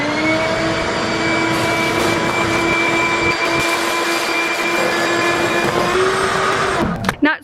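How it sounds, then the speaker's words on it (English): A shop vac works over a garden sidewalk and flower beds strewn with elm seeds, giving a loud, constant whining roar that cuts off abruptly near the end. "Not super impressed with his shop vac"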